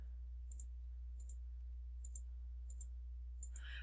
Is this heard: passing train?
no